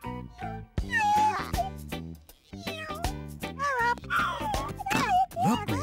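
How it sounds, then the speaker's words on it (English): A little black cat in a children's cartoon meows in several short, bright mews, interleaved with a cheerful speaking voice. "Hello, little black cat."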